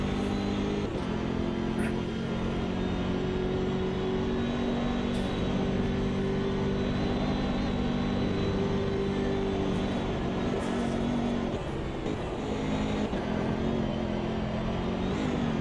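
A BMW race car engine droning steadily in Automobilista 2, a constant loud tonal hum with little change in pitch, heard from the cockpit without talk.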